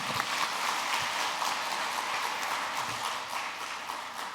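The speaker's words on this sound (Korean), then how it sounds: "우리 박수 한번 합시다" A church congregation at a spring revival service applauds together, a dense, steady wash of clapping filling the room at moderate volume with no voices over it.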